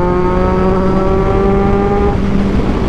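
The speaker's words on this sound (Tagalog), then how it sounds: "ang ingay kasi naka Orion dual exit muffler to, hot delete" A 2023 Kawasaki Z1000R motorcycle with an Orion dual exit muffler and hot delete, riding at highway speed, its engine roaring loud and steady with strong wind noise and no talk.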